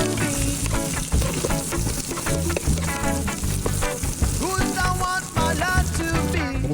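Garlic and ginger fry loudly in a pan for fish sarciado, with a dense, steady sizzle full of crackles and pops and no talk over it.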